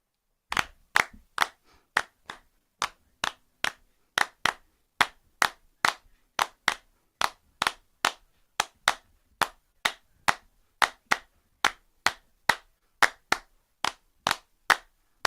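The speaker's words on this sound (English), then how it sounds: "We'll start with the 3-2 clave, part 1, and then we're going to go into the one with the double clap." Steady hand clapping in a 3-2 clave rhythm, sharp dry claps repeating in even groups, close and loud with no voices over them.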